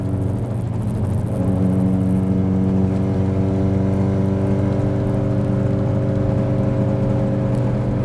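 A Mazda Miata drives along a Manhattan road, its exhaust giving a loud, steady low drone with layered harmonic tones that rise slightly as the engine settles into a continuous pull.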